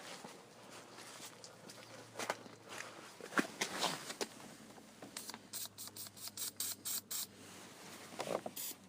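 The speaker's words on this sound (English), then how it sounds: "Give it a little spray." An aerosol can hisses in a string of short, even spurts near the end, following some rustling and shuffling.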